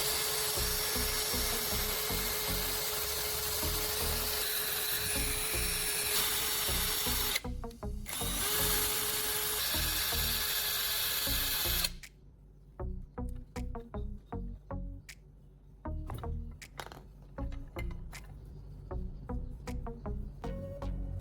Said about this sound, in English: Then, I use a drill to make a hole through the marked position.